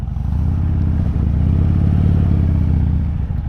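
A 2014 Harley-Davidson Dyna Fat Bob accelerates hard. Its V-twin gives a loud, steady, throbbing roar that holds close and even for a few seconds.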